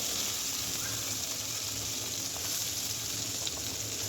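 Hilsa fish pieces rubbed with salt and turmeric frying in hot oil, a steady dense sizzle and crackle running throughout without pause, close and even, with no talking.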